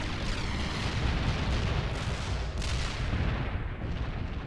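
An artillery barrage in the video game World in Conflict rumbles as a dense, continuous roar of overlapping booms and blasts, loud and unbroken throughout.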